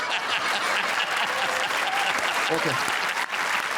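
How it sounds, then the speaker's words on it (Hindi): Loud, dense applause fills a comedy show studio, a sustained roar of clapping from the audience with a brief spoken interjection under it. "जोरदार तालियां"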